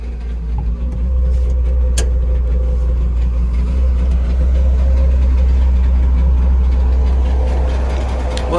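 A Trabant 601's small two-stroke engine idles steadily at close range, a loud low drone with a rough, buzzing pulse that holds evenly for several seconds.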